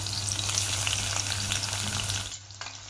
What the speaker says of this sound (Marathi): आता मिरची परतली की लगेच लसूण टाकून घेऊया